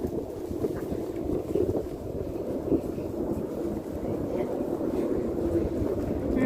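Wind buffeting a microphone outdoors on a cold day, a low continuous rumbling roar with gusty swells and no clear talk.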